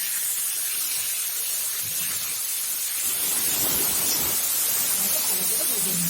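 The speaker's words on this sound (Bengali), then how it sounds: "এখন আমি দিয়ে দেবো মাছের তেল।" Fish oil poured into a pan of frying eggplant and beans sets off a loud, steady hissing sizzle that swells in the second half, with faint kitchen clatter beneath.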